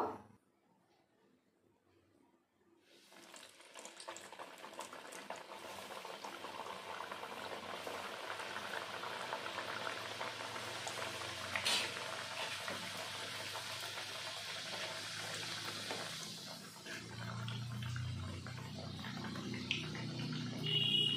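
Pitha drop into hot oil in a karahi, starting near-silent then swelling into a dense, bubbling sizzle that continues close and steady, with a soft low clunk toward the end.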